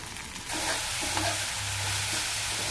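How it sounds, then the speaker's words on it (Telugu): Onions fry in oil for an onion samosa filling. The sizzle jumps louder after a brief quieter start, then carries on as a dense close hiss with stirring scrapes. No voices. "ఇంకా ఆయిల్ అయితే వేసుకొని మంచిగా దూరగా వేగనిద్దాం"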